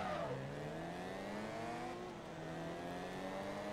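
Mazda race car engine in Forza Motorsport 2 at Suzuka Circuit, revving hard and steady with a rising harmonic whine as it accelerates through gears, loud and continuous with no talk over it.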